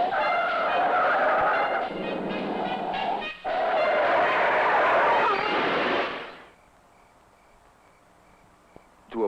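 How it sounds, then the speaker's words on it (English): Car skidding at an intersection while swerving to avoid another car: a loud, sustained tire screech with engine roar for about six seconds, cutting off abruptly into near silence. "I skidded, lost control, and turned over."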